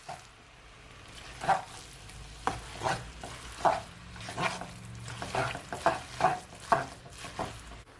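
Vegetables and chicken stir-frying in a pan for noodles, a steady sizzle broken by repeated scraping strokes of a utensil tossing the food, several distinct stirring bursts at a close, moderate level with no talk.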